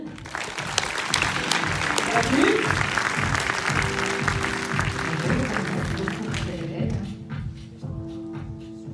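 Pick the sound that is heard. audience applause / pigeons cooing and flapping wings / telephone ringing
audience applause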